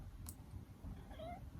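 A pet cat gives a short, faint meow in a quiet indoor room. There is no talking.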